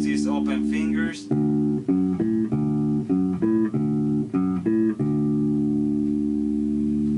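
An instrument sounds a series of sustained tones, each held about a second with short gaps between them, bright and close, ending on a long held G; a brief voice is heard at the very start.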